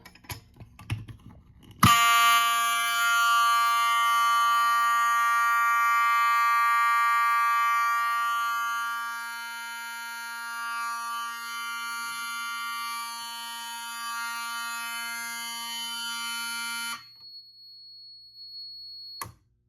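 A loud, steady electronic fire alarm horn from an FCI SBP-2 fire alarm panel blares continuously for about fifteen seconds, then cuts off abruptly when silenced, leaving faint room noise.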